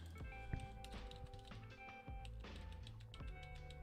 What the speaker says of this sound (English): That's the keyboard, obviously.